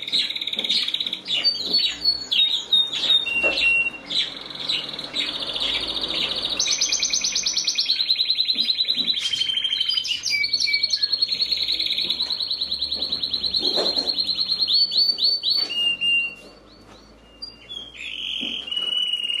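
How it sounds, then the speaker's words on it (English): A male canary sings a long, bright, continuous song of rapid trills, chirps and sustained whistled notes, loud and close throughout, briefly dropping away near the end before resuming. "Delightful and charming song there from our male canary."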